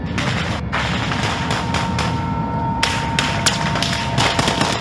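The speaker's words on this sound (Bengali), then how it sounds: "চলছে মুহুর্মুহু গুলি।" Gunfire in a war zone during the Russian advance on Ukrainian positions: loud, rapid bursts of sharp shots and thuds that repeat irregularly over a constant rumbling background.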